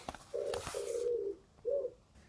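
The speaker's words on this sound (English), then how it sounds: "I've got pigeons behind my window." A pigeon coos softly nearby, a couple of low, rounded hoots with a short pause between them, against a quiet background.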